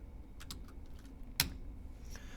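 Light keystrokes on a computer keyboard, a few scattered clicks with one sharper tap near the middle, faint and close by with no talking.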